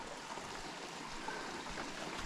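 Small stream running beside a hiking trail near Dockery Lake in the Appalachians, a steady soft rush and trickle of water heard alone, even and unbroken throughout.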